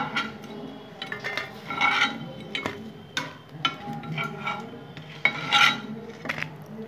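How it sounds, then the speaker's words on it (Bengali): Aubergine slices dry-fry in a pan without any oil while a utensil moves them around. Close metallic clinks and scraping strokes come in an uneven rhythm. "ভেজে নিলাম এক ফোঁটা তেল ছাড়া"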